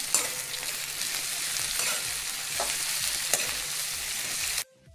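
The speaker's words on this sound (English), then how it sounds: "the curry leaves, then the slit brinjals and saute it well." Slit brinjals sauté with curry leaves in hot oil, a dense, loud, continuous sizzle with scraping stirs from a spatula, cutting off abruptly at the end.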